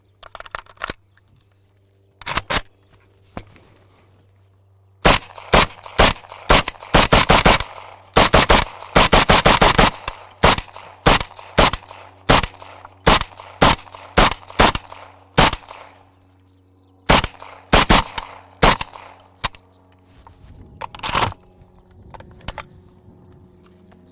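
AK rifle fitted with a Venom Tactical Antidote muzzle brake firing outdoors: loud, sharp single shots in an irregular string, some in quick doubles and bursts, each with a ringing tail, roughly twenty reports over the span.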